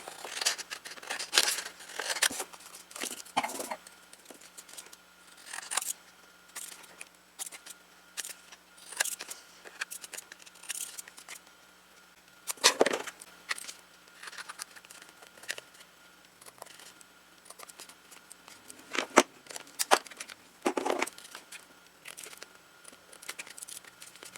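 Scattered crisp snips and crinkling rustles of paper being cut, some close and loud, with quiet gaps between.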